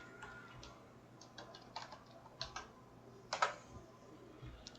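Faint keystrokes tap on a computer keyboard, a few scattered clicks building to a short quick burst over a low, steady background hum.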